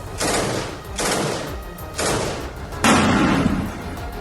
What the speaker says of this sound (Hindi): दरवाजे पर गोली चलाकर चेक किया कि अंदर कितना बड़ा खतरा है।